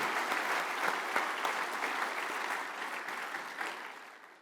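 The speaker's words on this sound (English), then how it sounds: "Please give these members a round of applause" An audience at a university philanthropy celebration gives a sustained round of applause, with dense, even clapping that slowly fades over about four seconds.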